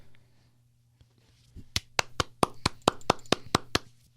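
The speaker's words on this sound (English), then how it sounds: "I'm clapping." One person claps about ten times in a steady, moderately quick rhythm in a quiet room, each clap sharp and close, following a short pause of near silence.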